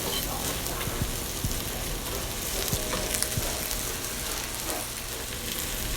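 Yu choy and eggs stir-fry in a hot pan, a dense continuous sizzle with occasional light clicks of stirring, close and steady with no voices.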